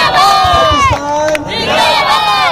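A large crowd roars and cheers at the final of the Shaikh Super League cricket tournament in Germany, a loud, continuous shouting of many voices with rising and falling whoops sustained through the whole stretch.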